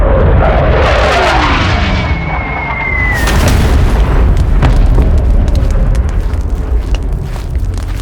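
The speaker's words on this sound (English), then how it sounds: "The artillery barrage lasted for 20 minutes, causing the grass to catch on fire." Artillery barrage explosions, heavy and continuous, rumble through the whole stretch with dense overlapping booms, loud and close, during a bombardment that sets grass on fire.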